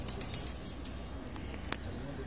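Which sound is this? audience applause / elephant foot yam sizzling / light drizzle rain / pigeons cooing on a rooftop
pigeons cooing on a rooftop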